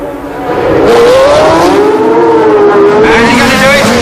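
V8 race car engines revving hard at the 1976 Long Beach Grand Prix, a loud close engine note climbing and shifting pitch continuously through gear changes, with crowd and track noise beneath.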